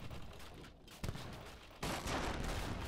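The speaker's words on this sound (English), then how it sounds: "Getting a couple of hits off with my heavy cannons." Heavy cannons firing in a team-game match of a strategy video game, heard as dense overlapping booms and crackling blasts with a sharp onset near the middle and a louder burst later, continuous game battle noise with no talk.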